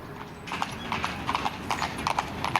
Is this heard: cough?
no